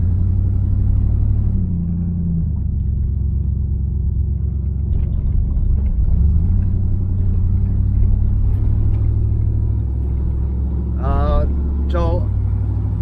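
A 1976 Camaro with a small 2-barrel carburetor idles steadily with a deep low rumble throughout. A brief higher whine comes near the end.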